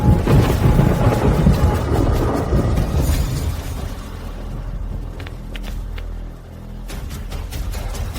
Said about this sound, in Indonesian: Waduh, ada petir.